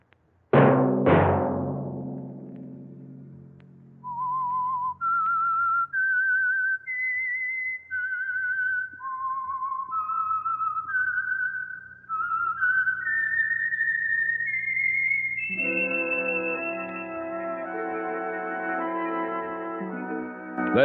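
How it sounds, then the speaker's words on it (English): A melodic whistled tune from a radio drama's theme signal, clear and close, stepping up through a series of held notes after a brief plucked opening, then joined by swelling orchestral music. "Let that whistle be your signal"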